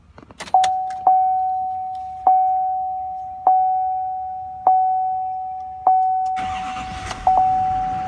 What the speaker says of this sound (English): I'm gonna go ahead and start this truck up.